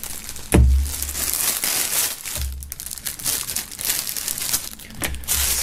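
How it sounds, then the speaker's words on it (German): Plastic foil wrapping around a band pennant is cut and pulled away during a box-set unboxing, giving loud crinkling and crackling with a few sharp thumps and rustles, close up, with no talking. "nachdem hier der Wimpel noch in Folie ist, werden wir diesen hier mal gleich rausschneiden"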